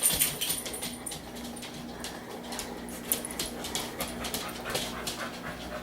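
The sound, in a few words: dogs whimpering and panting while licking a man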